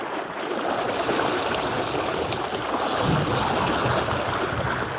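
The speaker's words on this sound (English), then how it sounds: "See this current." Strong river current rushing through water only two or three feet deep, a steady broadband wash and churn that holds its level without a break and carries no voices.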